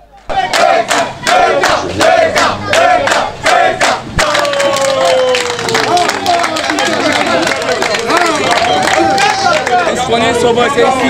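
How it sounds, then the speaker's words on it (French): A dense crowd in a Douala neighbourhood in Cameroon roars, shouts and cheers loudly and continuously at close range, with excited voices overlapping throughout. "c'est un autre bain de foule auquel a eu droit Brian Kamdem"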